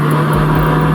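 A steady, loud, droning engine note from the SSC Tuatara hypercar, its intake and exhaust roaring continuously with no talk.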